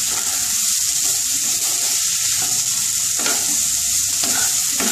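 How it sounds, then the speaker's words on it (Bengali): Drumstick (sojne data) vegetables being stir-fried in a pan, a steady loud sizzle with the scrape of a spatula stirring through it, several sharper scraping strokes standing out, with no talk. "এবার একটু কষাবো"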